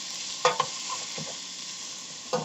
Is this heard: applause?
no